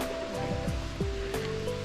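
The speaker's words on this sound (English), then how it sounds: "We've made it to the gardens and waterfalls." A waterfall in mountain gardens makes a steady, rushing wash of water, continuous and fairly close, over a brief stretch.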